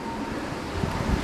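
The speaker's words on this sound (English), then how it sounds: "It's getting windy out here." Wind blowing outdoors, a steady broadband rush with low gusty rumbles of microphone buffeting, fairly loud and with no talk.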